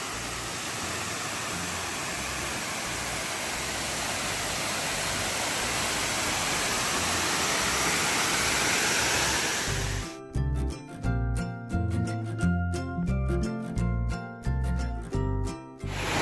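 Erie Falls, a waterfall in Ricketts Glen State Park, roars as a steady broadband wash of falling water for about ten seconds, then cuts abruptly to a quieter stretch with rhythmic, pulsing tones.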